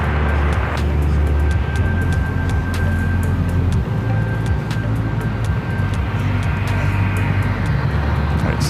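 JetBlue, Frontier and Embraer E-Jet airliners at San Francisco International Airport make a continuous loud jet roar and rumble that holds steady throughout, with a faint whine over it and no voices.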